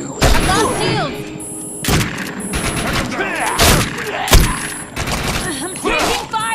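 Enemy gunfire in the sci-fi shooter Defiance 2050 on PS4 Pro, with repeated loud booming bursts and rattling volleys across the clip, mixed with in-game voice and effect sounds.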